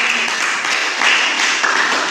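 Classmates applauding in a classroom, a short, loud and dense burst of many hands clapping close by.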